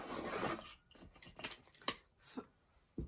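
A coloured pencil is sharpened by hand, producing a scraping rasp at first and then several short, separate scratchy strokes, faint and close with no talking.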